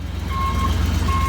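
A junk 2000 car sounds a steady electronic reversing beep over a loud low engine idle, the tone repeating in short even pulses close by, with no talking.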